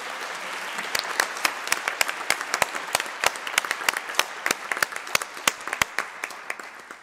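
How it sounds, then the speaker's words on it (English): At the closing session of a conference, an audience gives a round of applause, with sharp individual claps standing out over a softer wash of clapping that grows and then tapers. "They deserve a round of applause,"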